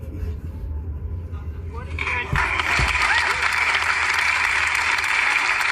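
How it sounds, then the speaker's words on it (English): A few seconds of low murmur give way to a burst of audience clapping at a comedy show, steady applause that holds to the end with some voices underneath. "Now they're clapping for him."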